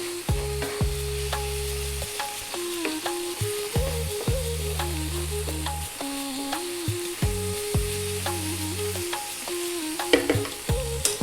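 Chili, coriander, cumin and turmeric sizzle in a hot pan over above-medium heat, a continuous close frying crackle broken by repeated stirring scrapes, with faint musical tones underneath.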